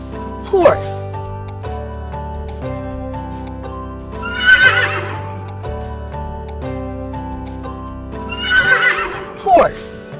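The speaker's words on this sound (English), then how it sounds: "horse" A horse neighs and whinnies in several loud shrill calls spread across the stretch, set against continuous tonal background music.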